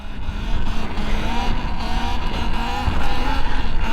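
Talaria XXX electric dirt bike accelerating for a wheelie, a steady motor whine rising and holding with rough rumbling noise underneath, loud and close throughout, with no talk.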